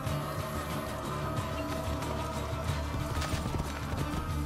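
Horse hooves clip-clop at a gallop in Assassin's Creed 2, a steady rhythmic patter with a faint whinny, set against a dense, busy game soundscape of music and ambience.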